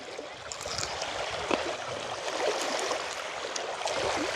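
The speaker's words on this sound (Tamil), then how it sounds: "குளக்கரையில் தண்ணி வந்து அதில் மோதுற சத்தம் கேட்குதுண்ணா" Continuous wash of water lapping and trickling at a lotus pond bank, steady and fairly close, with faint splashes and no voices.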